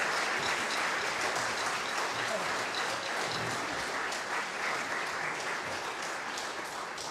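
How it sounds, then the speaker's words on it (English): An audience at a Lake Norman Orchestra concert gives the orchestra a sustained round of applause: thick, even clapping from a large crowd with no talk over it. "let's just give the orchestra another round of applause"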